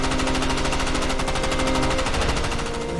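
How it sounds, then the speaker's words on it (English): Rapid, continuous machine-gun fire rattles loudly without pause, dense bursts overlapping into a sustained roar. "the tree line lights up with gunfire"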